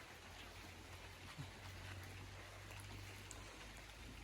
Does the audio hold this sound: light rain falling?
yes